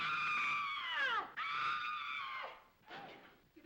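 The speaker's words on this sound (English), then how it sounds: "hear somebody scream." A person lets out long, shrill, high-pitched screams in a 1939 comedy-horror film, two sustained wails followed by a shorter, fainter cry, heard from a moderate distance.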